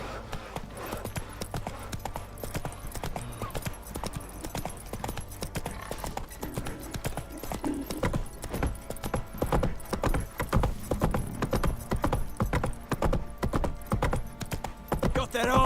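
Geralt's horse Roach gallops in The Witcher 3, with steady, loud hoofbeats pounding continuously from start to finish over a busy game soundscape.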